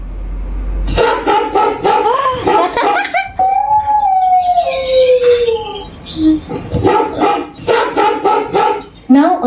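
A smart speaker plays a recorded dog barking in a series of loud, close barks with a short tonal whine in the middle; a voice is heard speaking in the clip.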